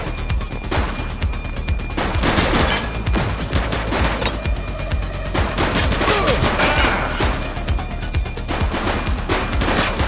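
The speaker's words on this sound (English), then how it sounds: "Shots fired!" In The Precinct video game, a dense gunfight crackles nonstop, rapid overlapping shots and bursts that sound like a machine gun, loud and sustained, with a faint voice somewhere beneath the barrage.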